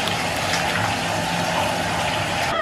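Water pours steadily into a bathtub as it fills, a continuous rushing hiss that stays loud and even throughout, with no voices over it.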